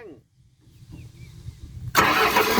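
Car engine revving in a workshop: quiet idle rumble, then a sudden loud rev rising sharply near the end, close by, with a voice calling out over the engine.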